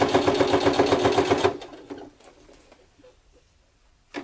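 Sewing machine stitching leather for gauntlet gloves, a rapid rhythmic run of close mechanical clatter for about a second and a half that then stops, followed by quiet handling and a final click.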